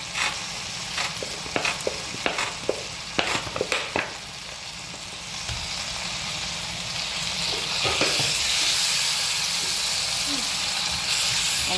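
A spoon stirs a chilli chicken sauce with tomato ketchup in a hot frying pan, giving several sharp scraping clicks early on over a steady sizzle that grows louder and hissier toward the end.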